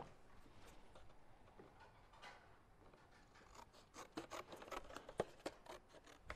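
Scissors snip through metallic craft card in a quiet room, a series of short crisp cuts that grow more frequent and louder toward the end, with no one talking.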